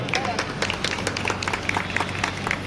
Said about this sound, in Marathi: जरा जोरदार टाळ्या होऊन जातात मंडळी